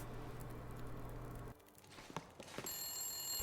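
A telephone ringing in the video game The Long Dark, a faint high electronic ring that starts late and continues over a low ambient hum and scattered soft noises.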